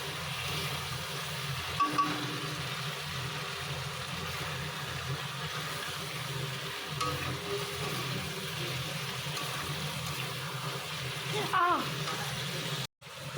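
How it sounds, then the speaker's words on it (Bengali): Meat is being sautéed with a small amount of spices in a pan on the stove, giving a steady low sizzle and occasional stirring scrapes throughout, with some background clatter. "দুটো ওভেনেই মাংস কষানো স্টার্ট হয়ে গেছে"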